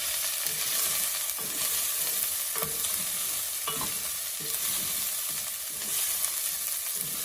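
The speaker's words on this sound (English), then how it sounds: "Let's give it a quick stir. Just to roast the spices a little bit." Spices dry-roasting in a pan for a sem and dried shrimp curry, stirred with a spoon: a continuous close crackle and hiss with repeated scraping strokes every second or so.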